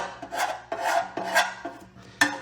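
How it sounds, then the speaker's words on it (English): Sludge scraped off the dipstick tube of an abandoned 1967 Cadillac DeVille, four close, rough rasping strokes in quick succession, gritty and loud with no talking. "I'm having a hard time scraping it"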